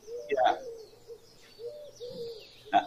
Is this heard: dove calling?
yes